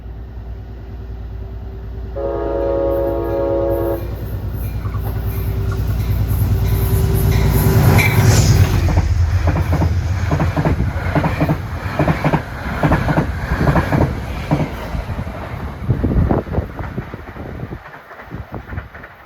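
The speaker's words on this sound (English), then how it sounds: "approaching now is train 839 on Metro North en route from Grand Central to Poughkeepsie. When approaching a platform, they sound their horn." Metro-North train 839 from Grand Central to Poughkeepsie approaches a platform at Ardsley-on-Hudson, giving one long, loud horn blast before the rumble swells and rhythmic wheel clatter passes close by.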